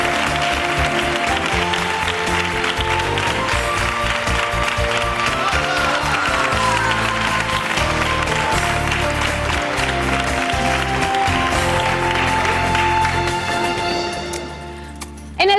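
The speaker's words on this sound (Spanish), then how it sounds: "Un aplauso para Ana Rosa y Nicolás." Studio audience on a Spanish daytime television talk show applauds two arriving guests, with sustained, loud, even applause that is heavily overlaid by music and fades near the end.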